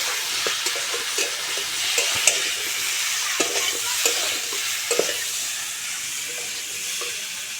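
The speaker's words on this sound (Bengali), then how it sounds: "এই সব উপকরণগুলো দিয়ে খুব ভালো করে আমি 1 মিনিট ধরে কষিয়ে নেব।" Silver carp masala is sautéed with spice water and salt in a hot pan, a loud steady sizzle and hiss broken by rhythmic scraping and knocking strokes of a stirring spoon.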